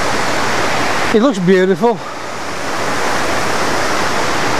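A waterfall pours over dark rocks with green moss in a steady, loud rushing roar that never lets up. Someone speaks briefly over it near the start.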